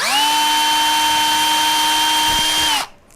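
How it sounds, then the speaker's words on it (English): A power drill spins up and bores a small 7/64 inch hole, a loud steady whine held for nearly three seconds before cutting off abruptly, with no talking. "So we'll drill our hole."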